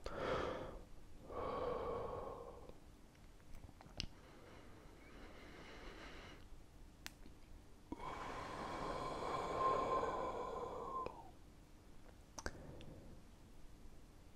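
Slow, relaxed breathing close to the microphone for ASMR, two long soft inhale-exhale swells separated by quiet pauses, with small mouth clicks scattered between them.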